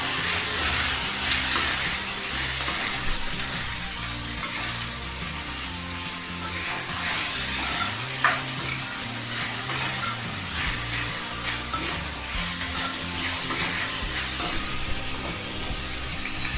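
Vegetable fried rice seasoned with salt and sugar is stirred and tossed in a hot pan, a steady hissing sizzle with soft repeated scraping and rustling of the rice, close and continuous without speech.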